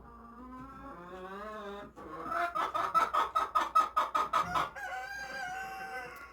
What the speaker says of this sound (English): She is my funniest chicken. I can hear her all the way in the house when she's doing that.